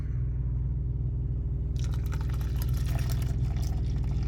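Hot coffee from a Road-Pro 12V coffee maker pours into a mug, a steady close trickle and splash over a constant low rumble of background noise.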